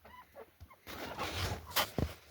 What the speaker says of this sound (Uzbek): Mana tovuqlarimiz.